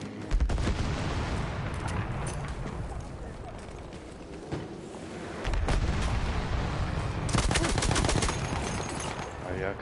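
Dense, continuous automatic gunfire from a machine gun in Battlefield 1, dominating throughout with bursts and explosive cracks layered over a busy battlefield din.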